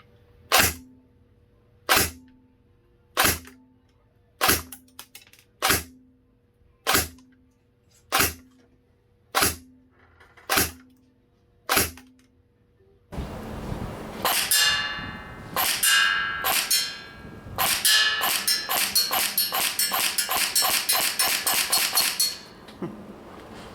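An Ares M45 X-Class electric airsoft SMG fires BBs: a string of evenly spaced single sharp cracks, then a dense rapid-fire burst, loud and close, with no speech.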